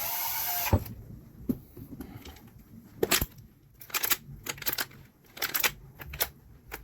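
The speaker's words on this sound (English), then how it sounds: "And then just tighten it with a screwdriver." A screwdriver tightens a screw on a Mercury binnacle remote control, making close, irregular clicks and ratcheting scrapes in short bursts after a brief rustle, with no talking.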